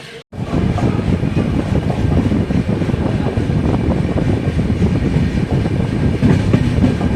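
The KSR Bengaluru Mail Express rolls along at sunset, a steady, loud rumble of wheels and carriages with faint clickety-clack running continuously and close by, no voices.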